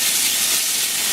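Pancetta sizzles in a pot with a steady, loud, hissing crackle that holds evenly throughout, with no voices.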